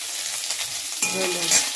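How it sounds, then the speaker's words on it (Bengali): Papaya, sweet potato and potato tossed into a pan with vegetable stalks and ginger for sukto, a brief near sizzle that swells into louder frying and stirring halfway through. "পেঁপে, আলু আর মিষ্টি আলু এবার আমি ওই ডাঁটার সঙ্গে দিয়ে একটু নেড়ে করে ভেজে নেব"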